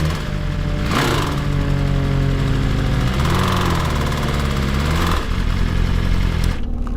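A damaged BMW M1000RR motorcycle engine runs continuously and loudly, with rising and falling revs and a steady mechanical drone throughout, ending in a brief higher burst.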